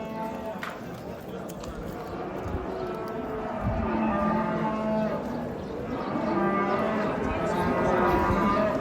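Cattle and bulls at the Uchkun livestock market in Osh, with repeated mooing and lowing over a busy crowd murmur and people talking nearby, fairly loud and close.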